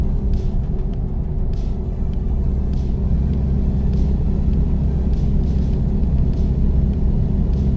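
A truck engine in the video game American Truck Simulator gives a steady, loud, low rumble that holds evenly throughout, with no talking over it.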